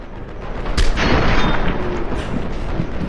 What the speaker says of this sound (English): Grenade! Grenade!